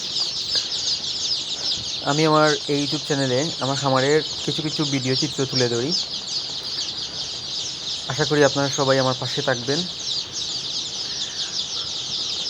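A crowd of young tiger chicken chicks on a poultry farm peeps in a constant high-pitched chorus that runs throughout, while someone speaks over it in two stretches.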